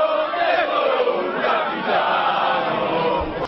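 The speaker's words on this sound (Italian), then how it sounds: "sentite il tifo da stadio delle grandi occasioni" Football fans roar and chant for Alessandro Del Piero at a seaside town farewell, a dense, sustained crowd cheer that holds steady without a break.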